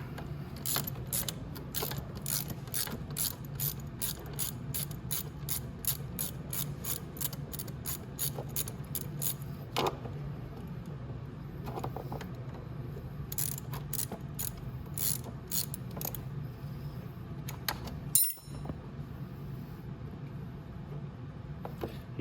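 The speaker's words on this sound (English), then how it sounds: "It's probably better if I had a longer ratchet" A hand ratchet clicks rapidly and repeatedly while tightening tight bolts on the motor of a Venom E-Madix 1300w electric ATV, close and alone, with a brief clunk near the end.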